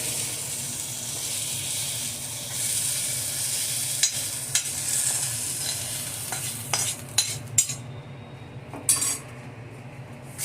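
Okra sautéing in a pan while being stirred with a metal utensil, a steady sizzle of frying under repeated sharp scrapes and clinks against the pan that grow more frequent toward the end, close by.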